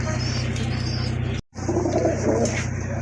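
A pair of milky-coloured fancy pigeons cooing in steady low rolling phrases, close and continuous over a constant background hum, broken by a very brief dropout near the middle.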